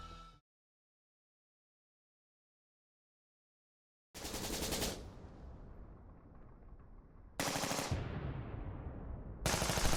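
Bursts of heavy gunfire during the SAF 44 special forces operation in the Philippines crack out in loud, dense volleys, separated by silence and long decaying rumbles, with no voices over them.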